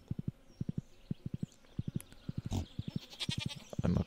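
Rhythmic horse hoofbeats trot steadily in pairs in Stardew Valley, crisp and close, with a brief rustle and a bleating animal call near the end.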